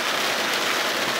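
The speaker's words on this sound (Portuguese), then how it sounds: "Tá chovendo ainda, mas não tá. A chuva não tá tão pesada," Steady, dense rain pouring down on a surface during a storm near Brasília, a continuous loud hiss with no breaks.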